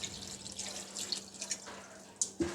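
Water splashing and trickling into a pan of potatoes in a home kitchen, a soft, nearby pour with a few brighter drips and splashes.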